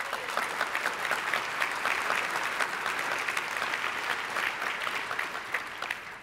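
Sustained audience applause fills a conference hall after a keynote on a software platform release, dense and steady clapping from a large crowd, moderately distant and unbroken throughout.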